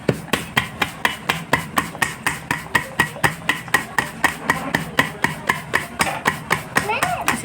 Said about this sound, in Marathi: किनारीला पण मधून मधून असं थापायचं आहे